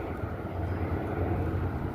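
A CHP propeller airplane drones overhead above Long Beach, a faint, steady low hum that holds evenly throughout with no talk.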